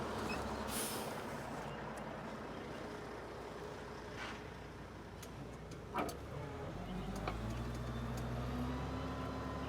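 A heavy truck engine rumbles steadily nearby as it rolls into a parking lot construction site, its low drone shifting in pitch, with a brief hiss and a few clicks.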